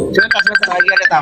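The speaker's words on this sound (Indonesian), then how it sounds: "Tuh ada inbox bunyi Facebook." A Facebook inbox notification chimes on a phone as a short, repeating tonal jingle. Someone speaks over it throughout.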